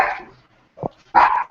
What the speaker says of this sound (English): My dog started barking too